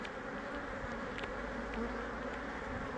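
Honeybees hum in a dense, steady drone from an opened hive of about fifty thousand bees during hive splitting, a close, continuous buzz with no voices.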